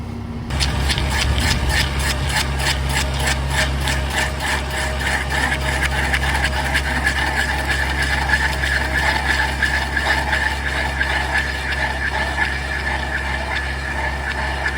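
A stump planer grinds down a tree stump with a steady mechanical whir and rapid rhythmic chattering from the cutting head, loud and continuous.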